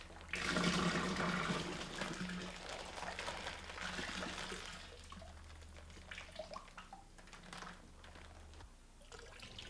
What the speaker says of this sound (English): When the bag is empty, rinse it with warm water and add this to the primary fermenter.